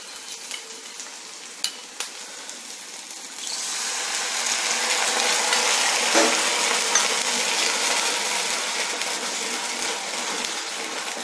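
Gobhi manchurian frying in a pan, a steady broadband sizzle that swells louder partway through as more goes in, with a few sharp clinks of a utensil early on.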